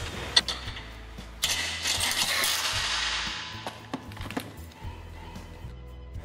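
A ratcheting wrench tightens bolts into threaded inserts on a portable retractable seating system, producing quick bursts of close, clicking ratchet action with some metallic knocks.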